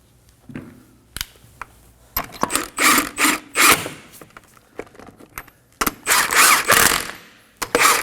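A ratchet snugs wheel lug nuts on a 2011-2016 Kia Optima 2.4L, with repeated bursts of quick clicking separated by pauses, close and fairly loud, with some clatter of handling between them.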